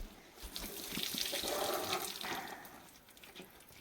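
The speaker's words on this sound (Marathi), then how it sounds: "खाली पाणी आलं." Water drains and splashes steadily from freshly washed fenugreek leaves for a few seconds, a soft trickling wash heard close by and fairly quiet.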